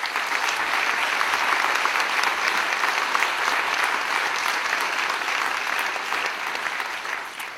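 A conference audience breaks into strong, sustained applause, many hands clapping in a dense, even roar that holds steady and eases slightly at the end, with no talking over it.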